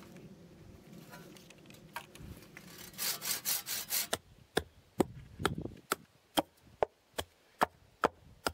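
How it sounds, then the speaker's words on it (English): Pieces of wood are hammered into reed bale walls of a passive solar cabin. Scraping and rustling come first, then a run of sharp, evenly spaced knocks, about one every half second, close and fairly loud. "Pieces of wood are hammered into the walls."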